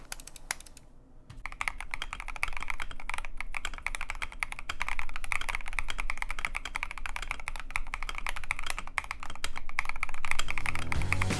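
Rapid mechanical keyboard typing on an Epomaker EP75, dense clicky keystrokes close up and continuous, with no voices.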